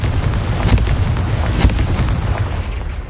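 Confringo and Incendio spell explosions in the video game Hogwarts Legacy, a dense run of loud booming blasts with sharper bursts near the start and middle, fading slightly toward the end.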